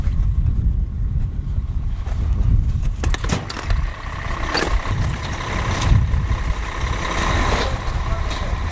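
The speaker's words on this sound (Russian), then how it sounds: "Все, сейчас садимся в ратрак" Snowcat on Mount Elbrus with its engine running, a loud, steady diesel rumble close by, with scattered clanks and people talking nearby.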